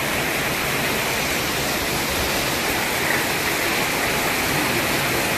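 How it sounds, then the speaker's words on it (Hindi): Heavy rain pouring steadily outside a hospital ward, a dense unbroken hiss with no pauses or voices. "बारिश काफ़ी तेज हो गई है"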